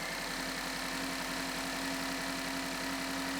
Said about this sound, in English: And our compressor engages